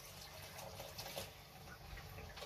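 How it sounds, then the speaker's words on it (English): Boiling water pours straight from a kettle over a dry food mix in a bowl, a steady close hiss of liquid with no pauses. "so just literally straight out of the kettle"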